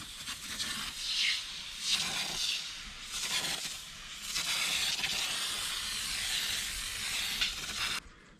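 An aerosol cleaner is sprayed onto a Toyota Corolla's car seat in a series of hissing bursts of varying length, separated by short pauses, close and moderately loud.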